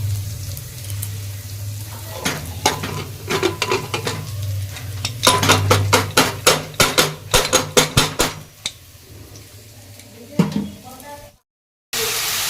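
Dal with carrots, peas and bay leaf being stirred in a pot, with repeated sharp metallic clinks of a spoon against the rim and a low sizzling simmer underneath; clinks cluster in the middle, then a brief pause near the end.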